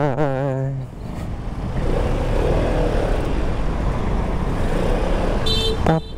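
Heavy road traffic in Pasig with motorcycles and cars rumbling steadily, a horn tooting loudly at the start and another short beep near the end.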